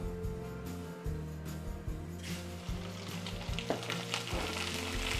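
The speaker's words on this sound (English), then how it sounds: "the oil's pretty hot. I'm going to throw in some rice" Rice dropped into preheated hot oil sizzles and crackles steadily, the frying growing brighter and busier partway through over a low steady hum, with no talk.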